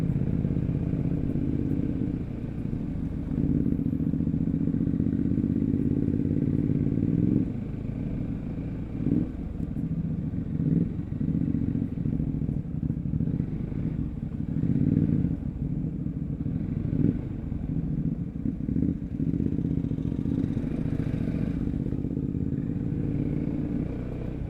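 A motorcycle engine running at a steady mid-pitched drone while riding off-road, with occasional clatter and bumps over rough ground.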